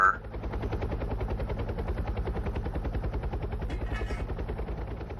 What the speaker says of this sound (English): Air ambulance landing on the freeway, and all traffic is already stopped.